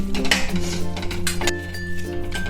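Grated beetroot sautéed in ghee in a pan for beetroot ladoo, with close, repeated clinks and scrapes of a spoon against the metal pan as it is stirred, and no talking.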